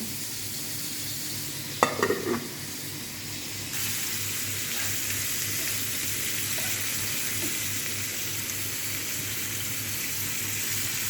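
Large shrimp frying in a pan during home cooking, a steady broadband sizzle running throughout, briefly broken early on by a cluster of sharp clinks and scraping from a utensil before the hiss settles back, with no talking.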